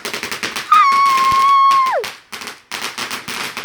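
Bonfire Night fireworks crackle in rapid strings of sharp pops, broken by a rising whistle that drops off, then more dense crackling bursts close by.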